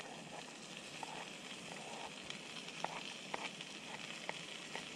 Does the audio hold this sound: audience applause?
no